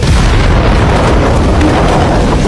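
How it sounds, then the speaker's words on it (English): An explosion blows a mountain cave apart: a loud, continuous broadband roar and rumble that fills the entire short span without letup, with no voices. "there was a loud explosion"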